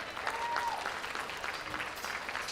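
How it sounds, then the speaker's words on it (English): Steady applause from an audience at a school livestock show's sheep and goat judging, honoring the winning exhibitors, a continuous moderately loud patter of clapping that fills the whole moment with no talk over it. "Let's give them another round of applause."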